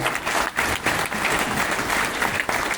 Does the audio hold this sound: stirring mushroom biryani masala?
no